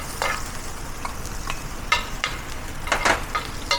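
Garlic sizzles in hot oil in a pan for a tikka masala, a steady crackling fry broken by several sharp bursts of stirring and scraping, close and loud with no talking.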